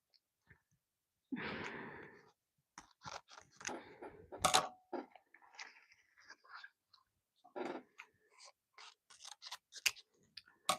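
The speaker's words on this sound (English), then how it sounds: "I'm folding them in half and just cutting up towards the folds" Scissors snipping ribbon folded in half for a DIY spring wreath, a series of quiet, close, irregular cuts and rustles separated by short pauses, with no talking.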